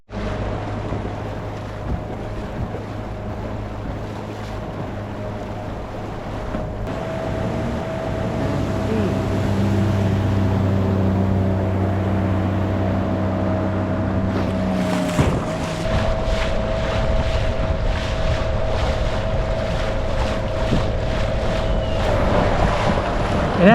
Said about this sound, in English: Just drop the motor, turn it on